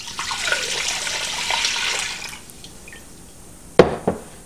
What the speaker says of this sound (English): Pour your milk in your pot.